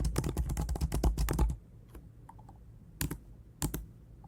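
Code being typed on a computer keyboard: a quick, dense burst of close key clicks for about a second and a half, then a pause and a few scattered single keystrokes, with no talking.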